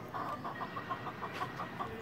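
An Aseel hen, ready to sit on eggs and searching for a nesting spot, gives a steady run of soft, evenly spaced clucks, faint and close over quiet background noise.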